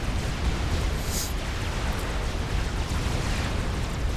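A plasma cannon blast in the real-time strategy game Supreme Commander: Forged Alliance Forever, heard as a loud, sustained rumbling roar of broadband noise with a brief hiss around the one-second mark, without any talk.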